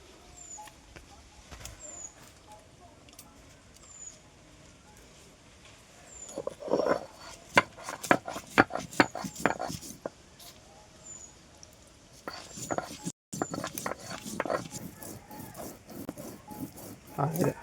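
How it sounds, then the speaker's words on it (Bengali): Red chilies ground into paste by hand in a Sundarbans home kitchen: bursts of quick, rhythmic scraping strokes, with someone speaking in between and birds chirping faintly in the background. "লঙ্কাগুলোকে এবার বেটে নেব।"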